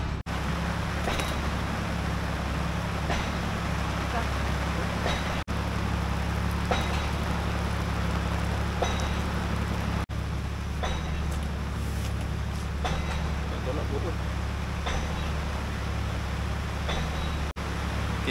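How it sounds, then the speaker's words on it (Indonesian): Heavy rain falls at a chilly campsite in Cameron Highlands, a steady, dense wash of noise with a low droning hum underneath and occasional louder drips or knocks. "hujan dah start turun dengan lebat."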